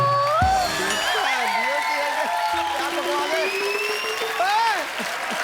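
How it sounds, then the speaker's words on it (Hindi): A studio audience applauds on The Kapil Sharma Show, a Hindi comedy talk show, with a steady, dense clapping that runs throughout under bright tonal music and whistle-like notes. "ठोको ताली।"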